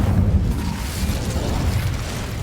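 Casting the Incendio fire spell in the Hogwarts Legacy video game unleashes a continuous, booming fiery roar with heavy low rumble, loud and sustained with no voices.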